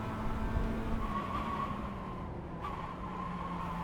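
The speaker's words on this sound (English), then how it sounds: "You can hear the tires squealing, trying to get warmed up" Mazda MX-5 engine droning in iRacing at Laguna Seca, with a sustained tire squeal from cold tires whining over it, steady and moderately loud throughout.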